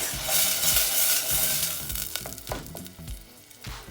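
Steady, crackling sizzle of tomato frying in hot oil for eggplant parmigiana, loud and close, with bursts of spattering and a few stirring clatters.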